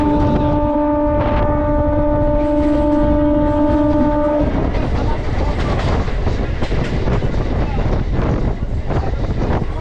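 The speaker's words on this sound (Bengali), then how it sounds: "হাওড়া জামালপুর বন্দে ভারত চলে গেল জামালপুরের উদ্দেশ্যে।" A Howrah–Jamalpur Vande Bharat express train passes close by, a loud sustained horn blast for the first few seconds giving way to a dense rushing roar and rail clatter that continues steadily to the end.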